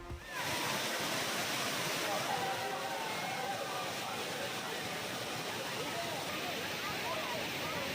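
Thirupparappu waterfall in Kanyakumari, crowded with visitors, giving a steady, dense roar of falling and splashing water that holds evenly throughout.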